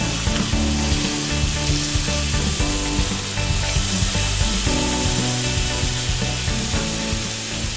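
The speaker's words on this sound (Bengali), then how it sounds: "আমরা উইংসগুলো ভেজে নিচ্ছি হালকা তেলে" Chicken wings for Coca-Cola chicken wings frying in a little oil, giving a loud, close, steady sizzle and crackle with occasional stirring scrapes.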